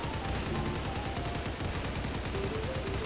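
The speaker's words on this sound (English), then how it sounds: "So we're going to go ahead and shoot and prove it." Rapid, continuous gunfire in the Roblox game The Storage, fired at a base wall built to stop bullets; a dense, loud stream of shots fills the whole stretch with no talking.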